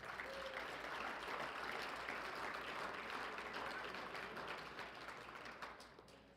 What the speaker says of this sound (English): a huge round of applause for all of the winners tonight